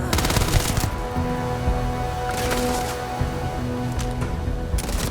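Rapid automatic gunfire in the Starfield video game, dense continuous bursts filling the clip with short breaks and renewed volleys, loud and close with no talk over it.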